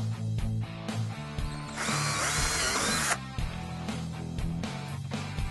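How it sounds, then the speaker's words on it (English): A power drill whines loudly for about a second and a half as it bores a pilot hole in a golf cart body panel for a headlight kit, with a steady hum before and after. "we're going to drill our pilot hole on the inside of our template line."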